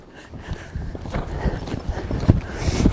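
Stallion loping, hooves striking the ground in a quick uneven rhythm that grows louder and closer, with no voices over it.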